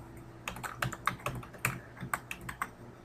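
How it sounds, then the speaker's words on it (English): Close, quick typing on a computer keyboard while an IP address is entered, in irregular bursts of sharp key clicks. "So I'm going to type that in."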